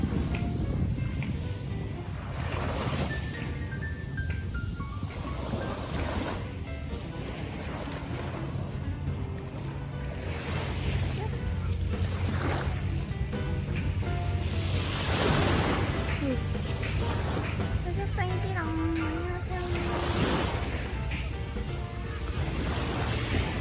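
Steady wind roars and buffets against the microphone throughout, a continuous broad rushing noise with a faint high-pitched whine running through it, with construction noise nearby.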